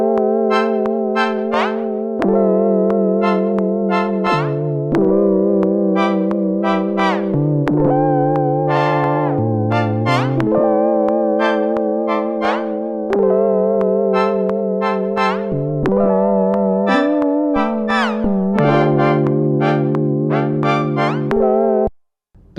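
A Sequential Prophet-6 synthesizer plays loud, bright stabbed chords with gliding pitch bends, a steady repeating pattern of short and held notes with a wavering, modulated edge, ending abruptly.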